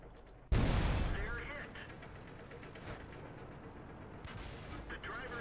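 A tank cannon firing in World of Tanks, one loud sudden blast followed by a long rumbling decay under engine noise.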